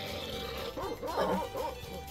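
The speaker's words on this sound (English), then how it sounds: "Excuse me, doggy." A dog in the Sherlock video game, set among Louisiana Cajuns, gives a few yips and whimpering barks over a steady game music and ambience bed.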